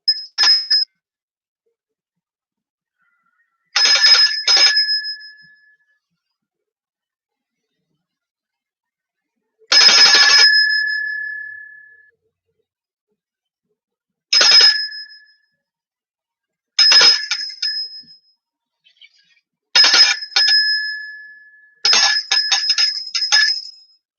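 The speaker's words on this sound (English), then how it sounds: "I'm just going to take a second and ring the bell, reflect" A small bell, of the kind rung for a moment of quiet reflection, is struck about eight times at uneven intervals. Each bright ring hangs briefly and decays into silence, clear and close with no talk.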